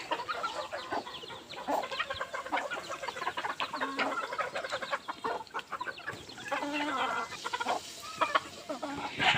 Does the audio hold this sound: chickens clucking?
yes